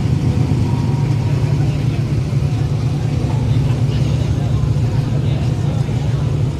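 Drag racing cars, a Gulf GTI and a Ranger Rat Rod, at a street night event at Orlando Speed World, give a steady loud engine drone with constant low rumble throughout.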